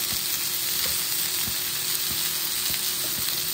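A homemade burger patty sizzles steadily in a hot pan as it starts cooking, with a continuous close frying hiss and occasional small pops and crackles, and no talk.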